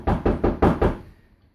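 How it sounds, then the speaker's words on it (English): Knocking on a door: five evenly spaced, firm knocks in quick succession, close and crisp, followed by silence. "After knocking,"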